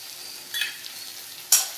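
Paneer manchurian being mixed with chilli, tomato and soy sauces in a frying pan: a soft background sizzle broken by two quick scraping stir strokes, close up with no talking.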